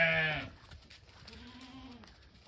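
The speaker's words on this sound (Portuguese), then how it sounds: "Ali umas ovelhas. São um animal muito fofinho" Sheep on a rural farm bleat nearby: one loud, harmonic bleat at the start, then a fainter, drawn-out bleat from another animal a moment later, with quiet outdoor ambience and no talking.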